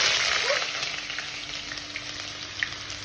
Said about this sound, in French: Je fais revenir mes oignons.